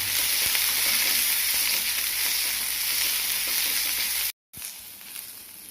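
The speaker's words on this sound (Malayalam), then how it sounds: "വെളുത്തുള്ളി, ഇഞ്ചി, പച്ചമുളക് ഇതിട്ടിട്ട് നമുക്ക് നല്ലപോലെ ഒന്ന് വഴറ്റിയെടുക്കാം." Garlic, ginger and green chili sauté in a hot pan for a Kerala-style chickpea curry, giving a steady, loud sizzle with stirring scrapes throughout, briefly cut off near the end before the frying resumes.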